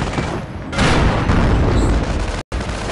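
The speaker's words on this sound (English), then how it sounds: "Receiving fire!" Loud, dense battle noise from the video game Command of Heroes during a German assault: a booming, continuous roar of gunfire that swells after a quieter start and cuts out briefly near the end.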